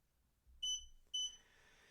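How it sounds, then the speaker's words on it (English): A digital powder scale used for rifle reloading gives two sharp electronic beeps, high-pitched and clear, each lasting about a third of a second with a short pause between, over a quiet background. "I left the beeps on this one so you can hear them."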